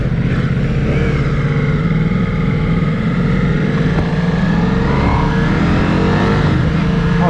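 Ducati Multistrada V4S engine while riding, a loud steady drone with a rising and falling pitch as the bike accelerates, wind rush underneath throughout.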